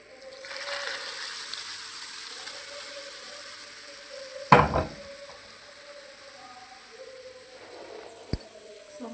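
Hot tempering of fried spices poured into curry leaf chutney, giving a steady soft sizzle with a sharp splash and crackle midway and a brief clink near the end.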